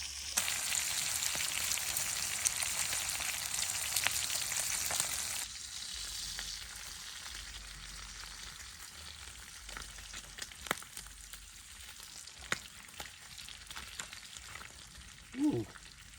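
Bacon frying in grease at a campsite on the Chesapeake Bay: a steady, close crackling sizzle that softens partway through, with occasional pops and a brief faint voice near the end.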